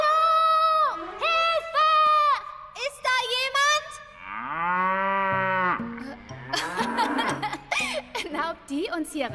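Cartoon cows mooing loudly in long drawn-out calls, one after another, mixed with animated character voices and chuckling, in a German-dubbed animated horse-ranch series.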